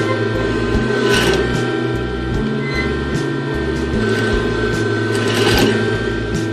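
A sewing machine runs a straight flat-felled seam on fabric for a lampshade slipcover, with a loud, steady rapid stitching hum and rhythmic low mechanical thumps pulsing throughout.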